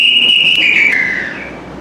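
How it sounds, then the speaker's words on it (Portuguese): A handmade whistle gives one loud, close, shrill tone that holds steady, then slides downward and fades over under two seconds, heard alone. "O apito."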